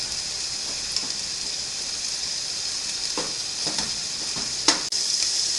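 Meat frying in a pan, a steady close sizzle with a few scraping stirs and clacks as it is broken up, one sharper knock near the end.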